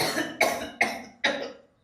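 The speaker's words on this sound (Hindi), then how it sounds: "अपने इस बुढ़ा को है ना दवाई करवा ले, खांसा चल रहा है।" An old man coughs in four sharp, harsh bursts spaced evenly about half a second apart, close and fairly loud with no talk over them.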